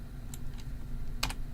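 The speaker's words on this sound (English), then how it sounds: "I'm going to fly up and just hit G on my keyboard again." Two sharp computer keyboard key presses, one faint tap followed by a louder double click near the end, against steady low room hum with no talking.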